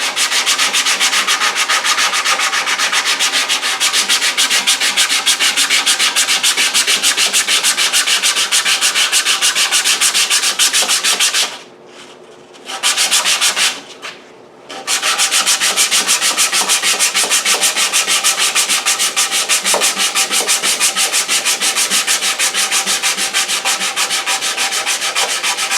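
An 80-grit abrasive strip pulled back and forth shoe-shine style over the volute of a wooden guitar neck, a loud, rapid, rhythmic rasping that runs continuously with two short pauses.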